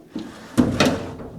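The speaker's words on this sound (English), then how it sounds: "But this drawer works out good." A drawer slides on a restored 1950s Craftsman metal tool chest, producing a short, close scraping and rolling run with a couple of brief knocks, loud and alone with no voices.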